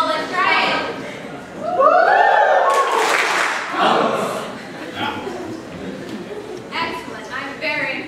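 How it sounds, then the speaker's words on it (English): Live theater audience shouting and clapping in response to a prompt, a burst of mixed cheering voices and claps rising briefly amid a speaker's talk and scattered chuckles. "you'll say, woo, clap twice and let out a grunt like hump"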